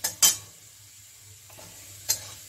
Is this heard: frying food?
yes